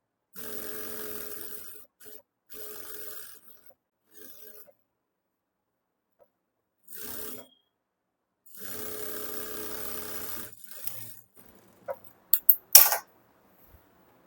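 A sewing machine edge-stitches a strip on a simple unlined blouse, running in several short whirring bursts separated by pauses, then ending with a few sharp clicks and taps.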